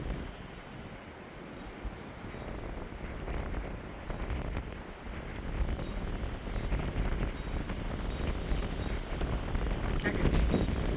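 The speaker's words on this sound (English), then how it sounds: "So windy." Strong wind roars and buffets the microphone in a steady, unbroken rush near a lighthouse by the water, with a faint wash of water beneath it.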